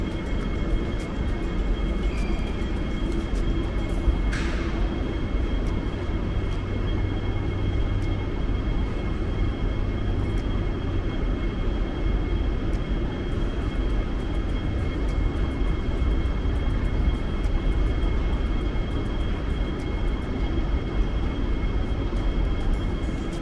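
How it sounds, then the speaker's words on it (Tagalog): An airplane passes low beneath a night-time plane-spotting spot, its engine roar steady and broad throughout, close and loud, with a brief higher whine early on. "biglang may dumaang eroplano dito sa ilalim"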